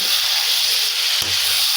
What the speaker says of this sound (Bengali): আলুটা আগে ভাজাভাজি নেওয়া হচ্ছে